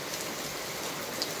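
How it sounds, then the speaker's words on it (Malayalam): Heavy rain falls outside a village home in Kerala, a steady close hiss of drops with no voices, lasting a little over a second. "മഴ മഴ മഴ, ഞാൻ ഈ മഴത്ത് എങ്ങനെ തുണി അലക്കാൻ പോകും"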